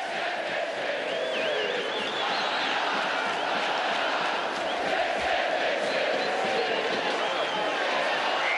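Figueirense football supporters chant and sing together as a crowd in the rain after a Recopa Catarinense win, a dense, continuous wall of voices with whistles and cheers rising over it, steady and loud throughout.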